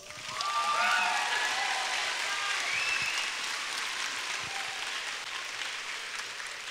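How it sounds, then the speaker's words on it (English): Steady applause from a crowd at a secondary school graduation, swelling quickly and then holding at a dense, even clatter of many hands, with a few faint voices and whistles on top. "Another round of applause, please."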